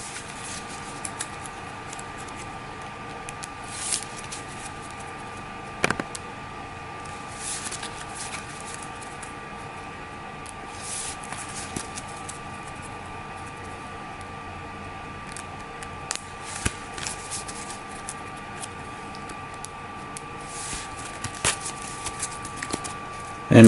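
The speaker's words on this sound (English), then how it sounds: "Go ahead and give it a shuffle." A tarot deck shuffled by hand, soft riffling and patting of cards in irregular bursts with sharp little snaps, close and quiet over a faint steady background hiss, no talking.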